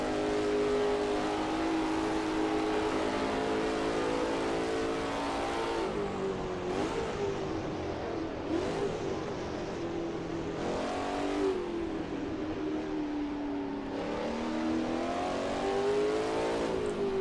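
A modded car in the racing simulator Assetto Corsa runs flat out, its engine droning loudly at high revs, with several gear shifts where the pitch drops and climbs again, alone without voices.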